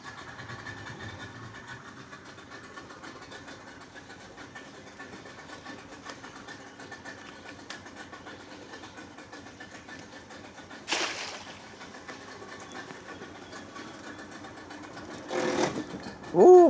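A small boat's outboard motor drones steadily on the Diahot river in New Caledonia, a constant mid-level hum with a couple of brief louder bursts of noise.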